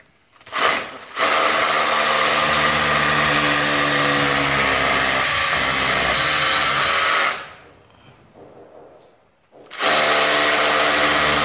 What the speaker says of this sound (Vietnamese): Đây em sẽ khoan con tắc kê.